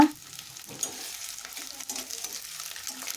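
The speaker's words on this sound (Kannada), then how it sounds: "ಈಗ ಈರುಳ್ಳಿಯನ್ನು ಸೇರಿಸ್ಕೊತಾ ಇದ್ದೀನಿ ಈರುಳ್ಳಿ ತುಂಬ ಫ್ರೈ ಆಗುವ ಅವಶ್ಯಕತೆ ಇಲ್ಲ" Onions for a quick onion rice bath fry in oil in a pan, a steady close sizzle with soft stirring scrapes throughout and a brief louder crackle at the start.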